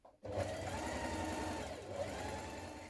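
A sewing machine runs steadily as it stay stitches around the back neck edge of a dress, a continuous close mechanical whirr that starts abruptly and holds for a few seconds.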